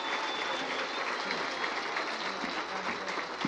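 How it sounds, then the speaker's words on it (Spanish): Sustained crowd applause from llaneros and campesinos honoring an indigenous community at a rally, steady dense clapping filling the whole stretch without a break. "le pedimos un fuerte aplauso de los llaneros y los campesinos a nuestra comunidad indígena"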